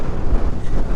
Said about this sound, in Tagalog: Alakas ang hangin.